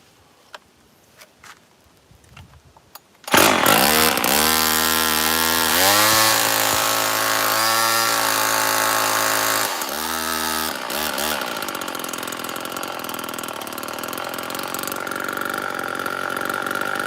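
A chainsaw engine starts after some faint clicks and fiddling, then runs loud and close, revving up and settling into a steady buzzing idle with pitch swings as the throttle changes.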